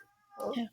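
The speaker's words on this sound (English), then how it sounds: "that's my cat." A pet cat meows in a couple of short calls near the microphone during a podcast recording, with a person speaking briefly around them.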